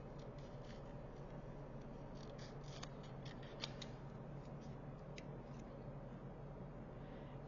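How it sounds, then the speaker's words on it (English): Scissors fussy-cutting around a stamped paper card image, a run of faint, close snips and paper rustles over a steady low background hiss, no talking. "I'm going to trim. And this is just fussy cutting."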